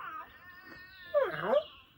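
A cartoon cat meows in a short, high, wavering call that swells near the end, set among a children's animated farm scene with sheep being rounded up, over faint background voices.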